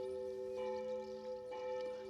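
Cathedral church bells in Maribo ringing at seven in the morning, heard as faint, distant, sustained humming tones that swell slightly and hold steady.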